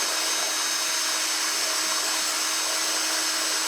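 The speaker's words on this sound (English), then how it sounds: "I think you're drilling into a bit." A power drill whines at a high, steady pitch without pause, grinding continuously through PVC up close.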